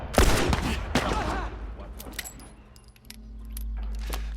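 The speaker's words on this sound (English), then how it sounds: "I'm just gonna shoot them." Rapid bursts of video game gunfire in Grounded, several sharp shots clustered early then sparser cracks, loud and close over a low rumbling background.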